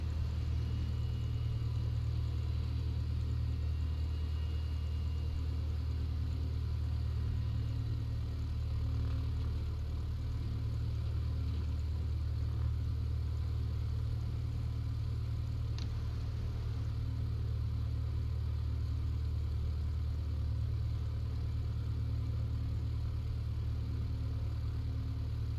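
An aircraft engine in Microsoft Flight Simulator drones steadily with a deep, constant low rumble and a faint higher hum layered above, unbroken throughout.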